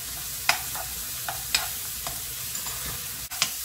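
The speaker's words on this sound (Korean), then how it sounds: "마늘 살짝 볶아주면 여기에 양파 넣어줄게요" Garlic and onion stir-frying in a pan, a soft steady sizzle broken by scattered utensil scrapes and clicks against the pan, close up and without speech.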